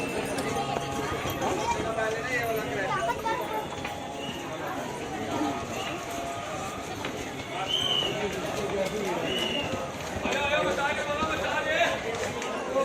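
Horse hooves clip-clopping along a crowded pilgrimage path on the Vaishno Devi yatra route near Katra, a steady running rhythm under constant crowd chatter and nearby talking voices.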